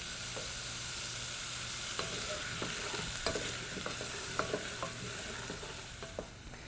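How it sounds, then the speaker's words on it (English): Vegetables for a tomato sauce sweat gently in a pan, a soft low sizzle under repeated stirring clicks and scrapes of a spoon, fairly quiet and close. "We want to lightly sweat these so they start to become tender"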